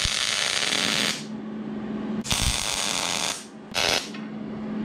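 Tack welding a steel truss onto a rear axle tube during a one-ton axle swap on a Jeep JK, three bursts of loud broadband crackling and hiss, the first long, the second longer, the third short, with a steady hum between them.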